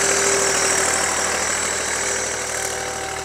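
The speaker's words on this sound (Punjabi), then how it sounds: "ਆ ਟਰੈਕਟਰ ਚੱਲਦਾ ਪਿਆ" A tractor engine runs steadily nearby, a loud, even mechanical drone with no voices over it.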